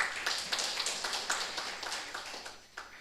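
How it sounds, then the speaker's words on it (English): Audience applause at a university research symposium, a steady patter of many hands clapping for about three seconds, moderately distant in a large hall. "we can clap hands for that achievement."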